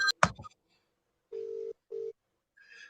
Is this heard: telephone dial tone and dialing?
yes